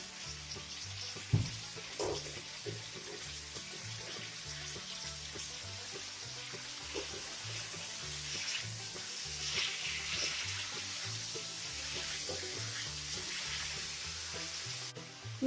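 Broccoli roasts in oil in a hot pan over a medium flame, giving a steady soft sizzle with faint stirring knocks throughout, no voices.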